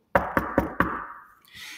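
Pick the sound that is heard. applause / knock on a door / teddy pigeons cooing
knock on a door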